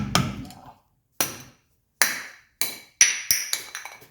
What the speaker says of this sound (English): you just want to knock off this dust cover